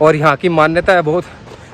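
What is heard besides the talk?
No everyday noise stands out behind the speech.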